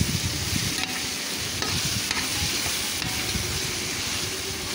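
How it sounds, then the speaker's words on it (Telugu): A ladle stirs a frying tomato chicken curry base, giving a steady, dense sizzle with continuous scraping and churning close up, no voices. "ఈ విధంగా గరిటతో కలిపేసుకుందామండి"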